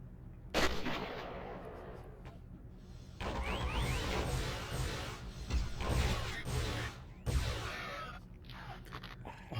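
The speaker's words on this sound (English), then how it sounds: "There's a sniper rifle." Gunfire from a sniper rifle in the video game Fire Warrior, with loud, broadband blasts and explosive crashes over a dense battle din, one sharp report early and more heavy bursts through the second half.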